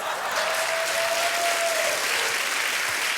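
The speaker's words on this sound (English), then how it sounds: "the people in the crowd are clapping" A comedy show audience applauds with steady, dense clapping throughout, while a faint whistle-like tone rises briefly near the middle.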